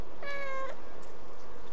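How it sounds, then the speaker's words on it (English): A single short cat meow from the video game Stray, clear and tonal, over a steady hum of background noise. "Meow."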